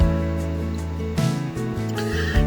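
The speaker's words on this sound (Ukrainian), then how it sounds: "на чорних конях з'явився володар царства мертвих похмурий Аїд" A horse neighs loudly against a musical background, with a shrill whinny rising near the middle and hoof-like thumps, depicting the black horses of Hades, lord of the underworld, in the Greek myth of Demeter and Persephone.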